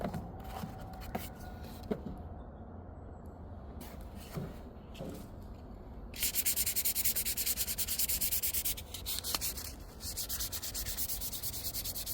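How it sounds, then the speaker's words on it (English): Cedar wood coasters are sanded by hand: rhythmic rubbing and scraping strokes, sparse at first, then a denser, louder stretch of continuous sanding, close to the listener. "So I'm gonna hit them with a little bit more sand again, and hit it with some more polyurethane."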